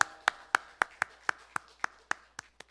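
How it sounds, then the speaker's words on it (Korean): A church congregation clapping in unison, about eleven crisp, evenly spaced claps in a steady rhythm that fade slightly toward the end. "우리 수고하심에 박수 한번 칠까요?"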